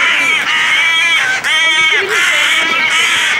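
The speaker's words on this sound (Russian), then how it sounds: "Вороны воспринимают как нападение." Crows defending a fledgling give loud, harsh caws up close, one call running into the next with barely a break.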